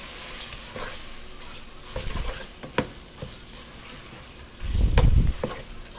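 Spinach pasta sauce is stirred in a pan under a continuous soft sizzle, with intermittent spoon scrapes and a louder, thicker stirring burst near the end.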